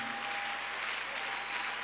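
A church congregation at a mass prayer service applauds, a steady, fairly faint wash of clapping with a sustained tone running underneath and no distinct individual claps.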